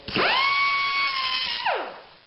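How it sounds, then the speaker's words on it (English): A cut-off wheel grinding a relief cut into an old wheel bearing: a sharp high-pitched whine spins up, holds steady for over a second, then winds down as the tool releases, loud and close. "We're going to take a cut wheel, and we're going to cut a relief cut"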